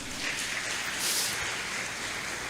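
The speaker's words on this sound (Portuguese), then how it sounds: "Vamos aplaudir ao Senhor por isso." Soft, steady applause from a church congregation, somewhat distant and muted, lasting a couple of seconds without a break.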